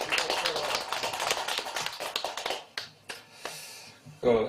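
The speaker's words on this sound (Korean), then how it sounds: "우리 무궁보사님께 박수 한번 전해드리시죠" Brief applause at a Buddhist memorial ceremony in a temple, a short round of clapping that quickly fades to a few scattered claps, with a voice returning at the end.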